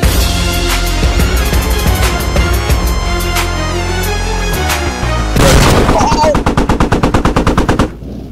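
Heavy automatic cannon and machine-gun fire from a BMP armored vehicle in the military shooter game Squad, loud and close, with rapid bursts and booming impacts throughout, growing denser near the end.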